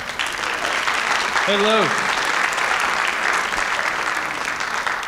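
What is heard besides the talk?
audience applause welcoming the principal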